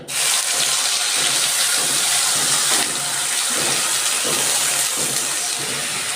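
Cumin seeds, two bay leaves and onion-garlic paste hitting hot mustard oil, a loud, steady, hissing sizzle that holds for several seconds without speech.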